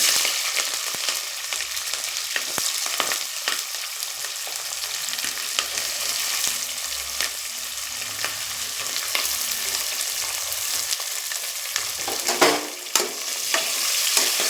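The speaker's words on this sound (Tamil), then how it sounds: "நல்லா வதங்கட்டுங்க. நல்லா வதங்குறது." Onions fry in a pan with ginger, green chili and garlic, a continuous close sizzle broken by scattered scraping strokes and knocks from the stirring spoon.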